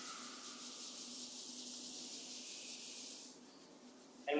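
Palms rubbing together in a steady, soft, continuous hiss during a qigong self-massage warm-up, close and fairly quiet, fading near the end before a brief louder noise.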